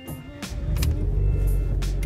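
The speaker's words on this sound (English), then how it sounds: "So yeah, I'll start my car." A Fiat car engine cranks and catches, rising into a low steady idle rumble, with a few short clicks and whirs close by.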